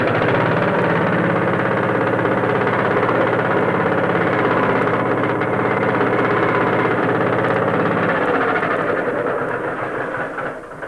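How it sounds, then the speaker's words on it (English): A running internal combustion engine makes a loud, steady drone with a dense low rumble, holding constant before easing off slightly near the end. "we have many other kinds, such as this internal combustion engine"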